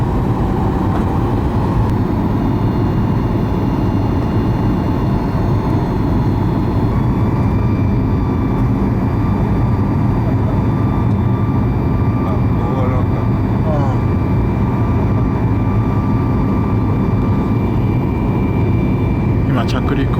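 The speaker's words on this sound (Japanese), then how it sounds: "今着陸をやり直したためゴーアラがありました。今上昇してます。" Airliner jet engines roar loudly and continuously from inside the cabin during a go-around, climbing after an aborted landing at Urumqi airport, with a steady powerful rumble and tonal whine throughout.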